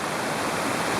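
Water rushing steadily through a small dammed spot on a little hillside mountain stream, a close, continuous broadband splashing flow with no pauses and no voices.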